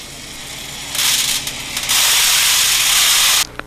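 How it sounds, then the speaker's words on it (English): Steel shot poured from a holding container over a fireproofing sample in a beaker, spilling over the rim into a pan: a loud, steady metallic hiss of streaming pellets that starts, briefly falters, then pours on before stopping abruptly. "Pour the remainder of the shot from the holding container over the sample, allowing the excess shot to flow over the top of the beaker into the pan"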